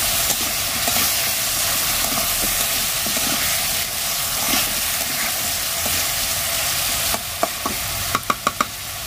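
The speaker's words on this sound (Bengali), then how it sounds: "তো এই যে এখানে মাছ আর কুমড়ো বড়িটা ভেজে রাখছি।" Fish and pumpkin lentil dumplings fry in hot oil, giving a loud, continuous hissing sizzle, with a few sharp utensil clicks toward the end.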